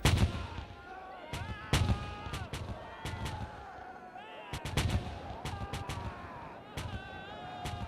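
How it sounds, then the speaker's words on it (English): Artillery cannon barrage from the Battle of Borodino: repeated booming cannon shots at an irregular pace, some near and sharp, others distant, over a low rumbling background with faint voices. "At 5:30 a.m., Napoleon ordered them to open fire. The Russians replied at once."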